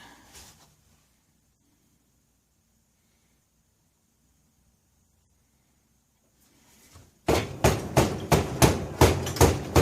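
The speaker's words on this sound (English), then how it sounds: "Just shaking the float so the needle and seat would seat it again." A vintage 1960s Honda E300 generator carburetor is shaken to bounce the float, giving a burst of about ten loud, rhythmic metallic knocks near the end after mostly quiet.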